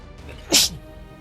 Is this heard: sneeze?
yes